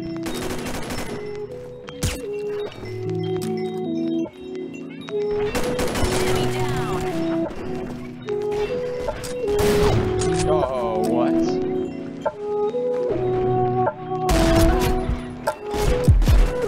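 Video game gunfire from the L85 rifle in Combat Arms: dense bursts of automatic fire and sharp shots rattle almost constantly over layered game music and effects, with occasional booms.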